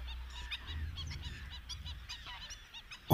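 Large, bright white migratory water birds wintering in the Moroccan wild give a run of repeated nasal honking calls, moderately close, over a low, steady rumble of background noise.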